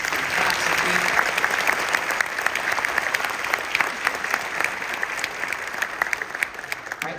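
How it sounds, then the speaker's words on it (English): An audience claps steadily at an honor band concert, a dense sustained round of applause that gradually thins toward the end. "So wherever you are, Dr. Robinson, can we give them a round of applause?"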